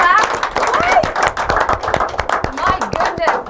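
An audience at an inter-collegiate quiz and debate semi-final claps for the lead speaker, steady clapping at close range with a voice talking loudly over it throughout.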